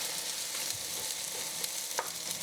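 Curry leaves and finely chopped white onions in hot oil for a Kerala-style pork curry, a faint continuous sizzle with occasional small pops and spits, quiet and steady without speech.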